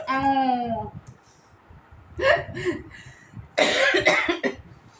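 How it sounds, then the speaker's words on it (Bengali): Several harsh coughs in short bursts, close and loud, coming after a bout of laughing, with a voice heard at the start. "কাশি এসে গেল হাসতে গিয়ে"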